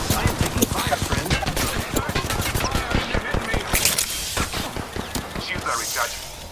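Rapid gunfire in the Apex Legends battle royale shooter, dense volleys of sharp loud shots in bursts, with a character's voice talking over the firing and brief pauses between volleys.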